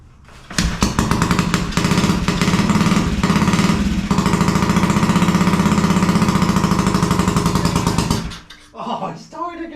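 A small engine started without choke catches and runs loud and steady for about eight seconds with a rapid popping beat, then dies away, and a voice speaks briefly afterward.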